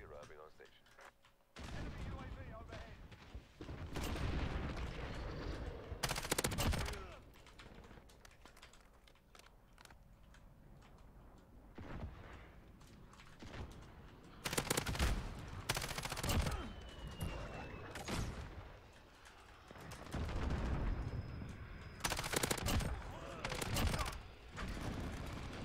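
Gunfire in the shooter video game Modern Warfare: rapid bursts and single shots crackle in irregular clusters, with a player talking and excited voices between volleys.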